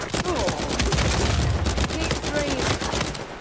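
A grenade launches and explodes amid rapid gunfire in Uncharted 4 multiplayer, a dense barrage of shots and booms with a player talking over the chaos.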